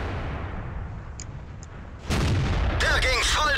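Tank cannon shot from a Panzer IV S in World of Tanks, a loud broadband boom striking at about two seconds over a low battlefield rumble, with the blast sustained and ringing to the end.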